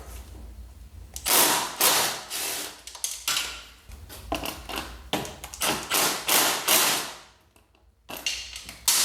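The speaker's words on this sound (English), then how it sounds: "I'm gonna have to use a swivel because I can't just use a straight extension because obviously the swing arm is in the way." A ratchet with a swivel, extension and socket works on the bolts of a Kawasaki ZX10R motorcycle, giving repeated loud close ratcheting bursts with short pauses between strokes and a brief quiet gap near the end.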